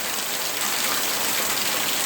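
Rain falls steadily outdoors, a dense even hiss of drops on surfaces, moderately loud and continuous with no talking.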